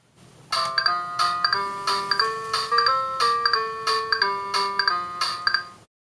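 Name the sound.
keyboard played through Casio AS-20 amplifier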